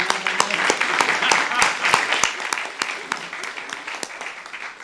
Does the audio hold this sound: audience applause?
yes